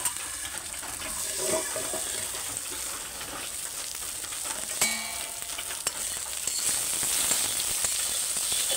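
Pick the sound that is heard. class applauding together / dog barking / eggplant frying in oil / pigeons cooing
eggplant frying in oil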